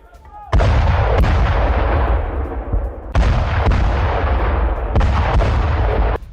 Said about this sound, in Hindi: कैसे एक के बाद एक धमाके और आवाज भी सुनी जा सकती है